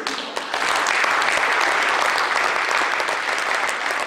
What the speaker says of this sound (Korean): 박수로 좀 인정해 주시면 감사하겠습니다